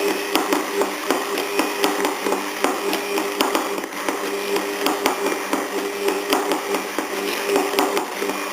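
An electric mixer whirs steadily while emulsifying aioli sauce as oil is worked in, a continuous buzzing motor drone with faint rhythmic knocks throughout, close and fairly loud.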